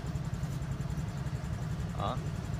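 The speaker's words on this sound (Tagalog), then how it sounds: "Okay, start muna natin. Ayan, umandar na." A car engine idling steadily after starting, a low continuous rumble up close, with someone talking briefly over it.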